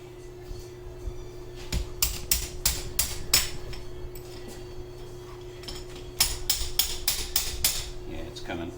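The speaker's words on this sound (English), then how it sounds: "I wonder if I can just tap it with my plastic hammer and it'll come off" A plastic hammer taps a gearbox part on its shaft in two bursts of sharp, evenly spaced knocks, close and crisp over a steady hum.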